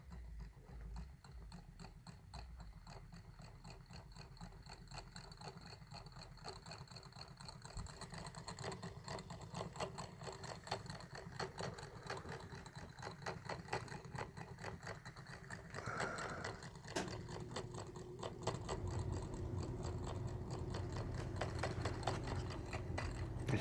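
A small Stirling engine runs steadily with a fast, even mechanical clatter and whir, continuous and close, with no voices.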